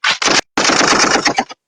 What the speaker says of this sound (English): Wait, you got fire, gunshots, and everything?